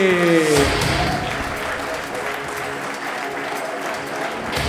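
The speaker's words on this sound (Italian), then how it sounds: "Continuate l'applauso per Tiziano La Bella." Comedy show audience applauding a comedian as he takes the stage, a brief rising tone at the start giving way to sustained, even crowd clapping.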